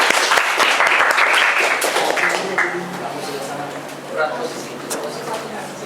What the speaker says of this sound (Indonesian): Tepuk tangan untuk kelompok Ardian.